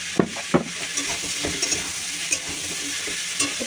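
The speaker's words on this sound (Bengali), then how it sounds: "এই দেখো আলু ভাজা আমার হয়ে গেছে" Potatoes fry in a pan with a steady, bright sizzle, while repeated scraping and stirring clatters of a spatula sound close by at an uneven pace.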